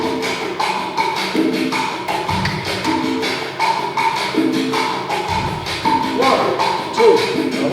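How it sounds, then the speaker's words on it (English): A cascara rhythm clapped and tapped in a repeating pattern over a looping son montuno backing, crisp hits falling in steady cycles with a few thuddier accents. "Maybe we can alternate clapping the rhythm so we can hear it clearly"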